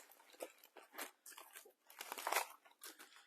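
Smoked pork butt, rested after the smoker, being unwrapped from its wrapping with close, crisp crinkling and crunching bursts in an uneven rhythm, no voices.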